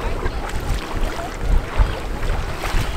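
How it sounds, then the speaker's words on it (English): Strong wind buffeting a boat on Lake Ontario, a loud, gusty roar with rumbling low-end microphone buffeting throughout. "it got windier"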